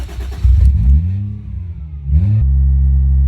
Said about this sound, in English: Light bit of throttle just to keep it from instantly stalling.